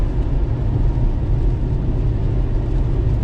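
An Xpeng G3 electric car on the move produces a steady, loud broadband road and wind roar heard from inside the cabin, continuous without breaks.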